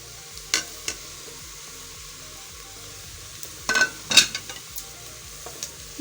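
Onions and spices fry in a pot with a low, steady sizzle, broken by a few sharp scrapes and clinks as a spoon stirs them against the metal, with no talking.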